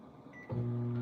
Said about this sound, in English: I heat my bread up a little bit in the microwave.